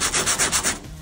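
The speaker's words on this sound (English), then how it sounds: "just sanding them" Sandpaper rubbed by hand over rusty, peeling paint on a 1979 Dodge D100 stepside pickup, close and loud, six quick rhythmic back-and-forth strokes before stopping.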